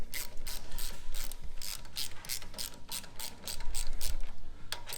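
A hand ratchet with a 9/16 socket clicks in rapid bursts while snugging bolts on a hydraulic brake pedal kit, close and crisp, with short pauses between strokes.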